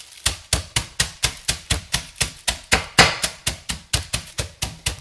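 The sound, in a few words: crushing peanuts in a bag with a rolling pin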